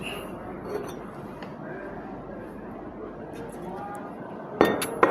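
Glassware clinks sharply a couple of times near the end while a lead compound sample is being dissolved in water for a chemistry practical, after a quiet stretch with faint background noise.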